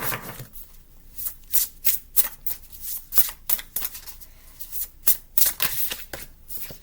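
Oracle cards shuffled by hand, a rapid series of crisp riffling bursts, about a dozen close, bright swishes with brief pauses between them and no speech.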